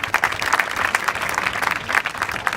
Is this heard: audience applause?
yes